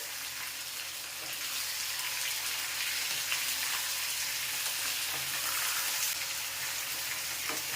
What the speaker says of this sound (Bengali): চিকেনটা দেওয়ার পরে নাড়া দেবো